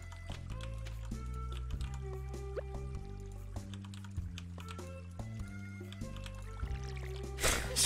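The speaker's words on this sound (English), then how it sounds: "Trying to dump water on his head." Water is dumped on a character's head in Stardew Valley, heard as quiet dripping and splashing plinks over gentle background music, ending in a brief louder splash.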